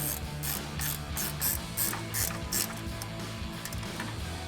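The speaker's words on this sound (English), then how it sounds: "grab our ratcheting wrench, 12mm, and tighten this one down" A 12mm ratcheting wrench clicks in quick repeated bursts while tightening a bolt during a Toyota Tacoma suspension lift install, with a soft steady background hum.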